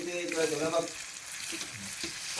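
Potatoes cooking in a pan in a village kitchen give a steady soft frying hiss with a few stirring scrapes, close and moderate, with a brief voice early on.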